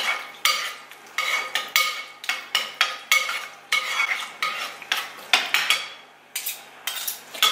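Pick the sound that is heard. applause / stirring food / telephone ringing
stirring food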